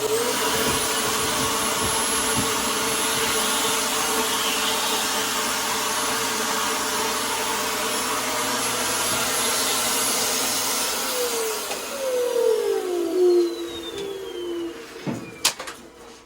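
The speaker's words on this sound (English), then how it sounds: "you just take your vacuum and vacuum around in here and vacuum around inside the tube" A vacuum cleaner runs loud and steady while it sucks debris from inside a dryer vent tube, its whine continuous for most of the time before the motor tone dips near the end, followed by a few clunks and handling noises.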